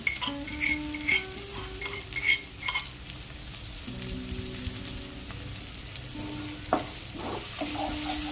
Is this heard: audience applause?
no